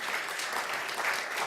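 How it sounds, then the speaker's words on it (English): A forum audience at the Ars Electronica STARTS Prize event applauds a prize winner, producing a dense, even wash of clapping from a distant crowd that holds steady throughout. "So give him a big applause."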